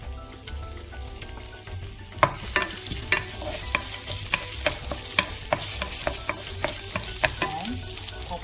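Sliced ginger sizzling and stir-frying in hot oil in a wok, a steady crackling hiss broken by repeated scraping clicks of the spatula, close and continuous with no talking.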